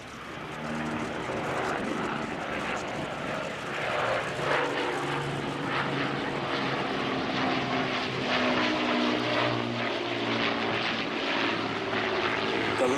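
The engines of an Avro Lancaster bomber drone steadily at an airshow at Duxford, a continuous propeller roar held at moderate distance throughout.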